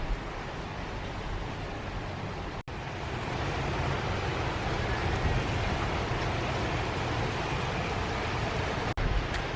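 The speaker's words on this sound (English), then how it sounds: "it is currently raining and thundering" Rain falling outside a bedroom in Cambodia during a thunderstorm, a steady broadband wash of noise at low level that runs throughout, with two brief dropouts and no clear thunderclap standing out.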